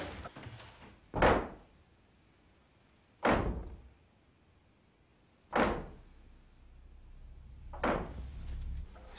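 Doors bang in the horror film The Conjuring: four heavy, booming slams spaced about two seconds apart, each loud and sharp against a quiet, low rumbling background.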